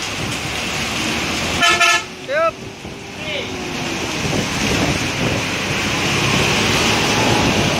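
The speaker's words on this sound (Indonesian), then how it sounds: "Hujan ini, anginnya kenceng banget." Heavy rain and strong wind roar around a moving bus on the road to Bandung, a dense steady wash of noise broken early by a loud horn toot, with brief talk.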